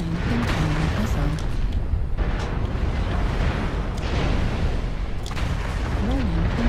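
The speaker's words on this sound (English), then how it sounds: "Warning, incoming missile." A MechWarrior Online battle roars with dense, continuous rumbling explosions and weapon fire as an incoming-missile warning sounds, with short wavering tones and players talking over the din.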